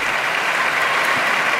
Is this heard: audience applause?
yes